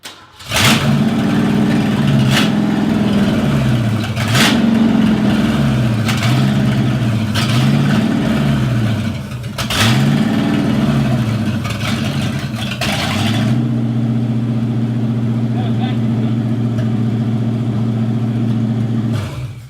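A car engine on its first start runs rough and will not settle to an idle, surging up and down in repeated revving waves close by before holding a steadier, uneven drone.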